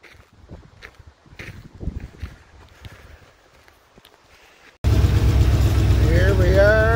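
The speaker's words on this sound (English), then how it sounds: "Here we are, cruising down the road in the green hornet" The green hornet, an old car with no power steering or power brakes, cruises down the road. Quiet rustling and light thumps give way abruptly to a loud, steady engine drone for the last couple of seconds.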